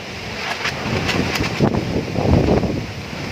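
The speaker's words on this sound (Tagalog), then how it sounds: "Pakalakas na ng hangin sa amin. Wala siyang kasamang ulan. Hangin lang." Strong wind without rain rushes and buffets the microphone in a continuous roar, swelling and easing in gusts, with no voices, near pili nut trees in the Philippines.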